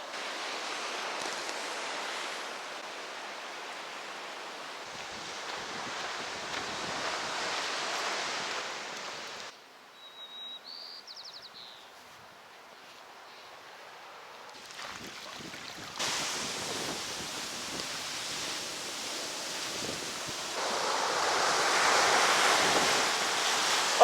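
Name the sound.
ocean waves at the beach near Fort Ross, California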